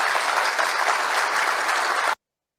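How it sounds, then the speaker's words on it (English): Audience applause at a CNN town hall for Donald Trump, a dense, steady wash of many hands clapping without letup for about two seconds before cutting off abruptly. "Listen to the applauses."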